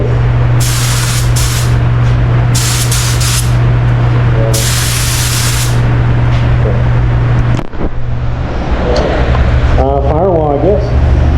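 Loud, continuous hiss of a spray gun painting a truck body and firewall in bursts over a low engine hum, with a few short voice-like sounds later on.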